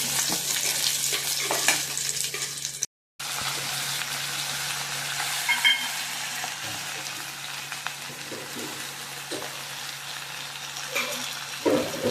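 Drumstick leaves and softened onion stir-frying in a hot pan give a steady, loud sizzle with scraping stir strokes, running continuously with one brief drop-out early on.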